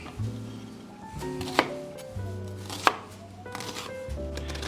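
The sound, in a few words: cutting up an onion with a knife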